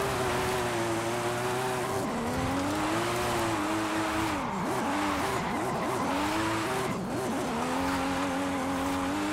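A Toyota FD Supra drifts along a mountain road in Forza Horizon 5 under full simulation settings. A loud, continuous engine drone carries wavering pitch shifts as the clutch is kicked, and tire squeal runs throughout.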